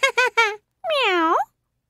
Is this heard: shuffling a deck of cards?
no